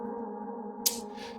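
A melodic house synth sample processed through a pitch-shifting effect sustains as a quiet tonal drone, then gives way to two short airy, shimmering bursts near the end.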